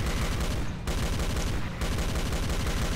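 Continuous rapid gunfire in Doom: Project Brutality, a loud, even stream of shots broken by two short gaps and no talking.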